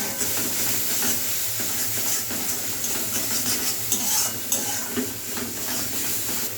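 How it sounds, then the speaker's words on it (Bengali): Spices being stirred with a little water in a pan for khichuri, a steady close sizzle and hiss with soft scraping strokes throughout, no voices. "অল্প পরিমাণে জল দিয়ে একটু মিশিয়ে নেব ভালোভাবে।"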